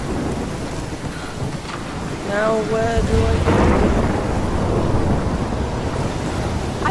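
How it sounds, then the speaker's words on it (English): A heavy thunderstorm with steady rain in Life Is Strange, a broad rushing downpour that swells into a rumbling roll of thunder, with a person talking briefly over the storm. "I've never seen a storm like this in Oregon."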